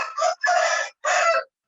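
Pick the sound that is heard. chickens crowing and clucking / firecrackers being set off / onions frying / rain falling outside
chickens crowing and clucking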